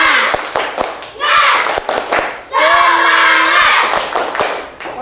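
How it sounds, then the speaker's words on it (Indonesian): A school class does a rhythmic spirit clap, sharp synchronized hand claps mixed with loud group chanting and shouted voices in bursts. "Tepuk semangat."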